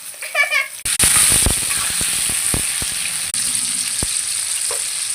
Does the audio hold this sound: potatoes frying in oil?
yes